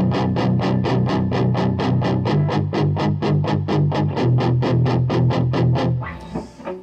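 Distorted electric guitar playing a modern metal riff in tight, fast 16th-note chugs with syncopated accents, a continuous loud palm-muted pulse of some two dozen strokes, close and alone, ending with a brief ringing tail.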